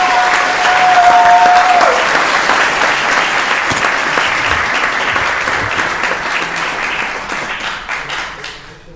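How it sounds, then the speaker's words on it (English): An audience at a city council meeting gives sustained applause, a dense wash of many hands clapping that starts strong and slowly tapers off over several seconds. "Join me one more time in giving them a round of applause."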